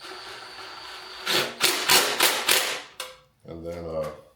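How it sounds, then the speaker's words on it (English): Short burst of roughly five rattling impact-wrench hits snugging the oil pan bolts on a 1971 Ford Torino engine, close and loud, followed by a brief voice. "I'm just gonna put them down with this impact, compact, whatever"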